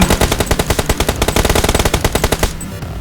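Rapid automatic gunfire from PUBG Mobile, loud bursts of tightly spaced shots rattling for about two and a half seconds before cutting off into a quieter game background.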